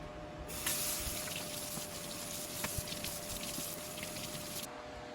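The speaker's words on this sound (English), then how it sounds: "I just gave them another rinse since they've been in the refrigerator for a couple days." Freshly harvested cucumbers, refrigerated for a couple of days, get rinsed under a steadily running kitchen tap, a continuous close splash of water lasting several seconds before cutting off.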